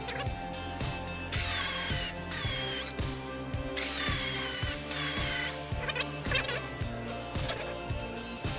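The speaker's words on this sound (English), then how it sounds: "Now you got a pilot hole there." Power drill boring a pilot hole while a dance pole is installed in a party bus, with repeated bursts of whirring drilling and rhythmic knocking thuds, close and loud with no talking.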